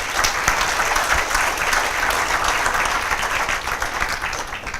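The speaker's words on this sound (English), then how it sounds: "you all need to give yourselves a round of applause" An audience at a guest lecture applauds with sustained, dense clapping that stays loud and steady throughout, with a faint murmur of voices beneath.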